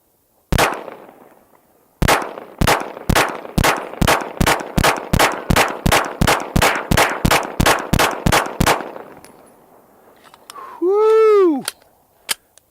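Stoeger STR-9F 9mm pistol fired at a range during an accuracy test: one shot, then a rapid, steady string of loud, sharp reports, followed by a brief electronic chirp and a final shot.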